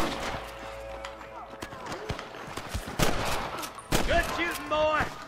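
Gunfire in the Western video game Red Dead Redemption: scattered shots and bursts ring out over a busy battle soundscape, with loud cracks around the middle and end, while voices shout in the background.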